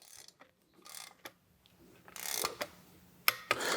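Ratcheting torque wrench tightening bolts on a Kwik Performance Sanden mini AC compressor bracket for a big-block Chevy, bursts of close clicking with short pauses between strokes, no voices.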